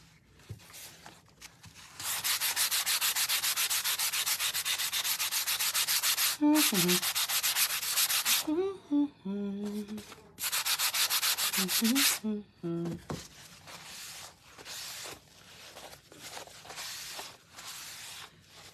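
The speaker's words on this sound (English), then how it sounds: "A little bit more sanding. You want your surface really nice and smooth." Long stretches of steady, scratchy sanding strokes on a wooden breadboard, loud and continuous, broken by short pauses with a few faint knocks and rustles.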